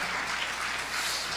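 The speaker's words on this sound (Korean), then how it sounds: "박수 좀 쳐주세요" Scattered audience applause at a talk or lecture, a steady dense patter of clapping at moderate level with no voices over it.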